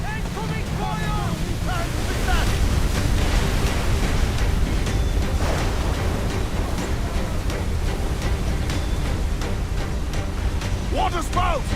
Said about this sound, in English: Water spout, man! Stay wide!